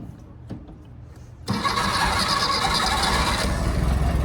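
A dune buggy engine cranking briefly and then catching, settling into a loud, steady, rough close-up idle that continues to the end.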